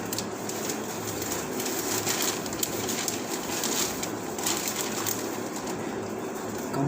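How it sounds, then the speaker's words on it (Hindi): Birds chirp and pigeons coo in the lanes of Nakhas market in an old city, a dense steady chorus of calls over a constant background hiss, with no talking. "नक्खास बाजार की गलियों में परिंदों की चहचहाट गूंज उठती है"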